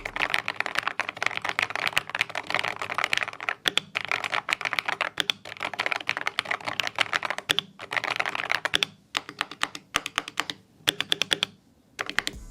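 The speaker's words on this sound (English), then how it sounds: "Let's do a sound test on this one real quick." Rapid typing on a magnetic-switch keyboard, crisp clacky keystrokes in bursts with brief pauses, close and clear, no speech.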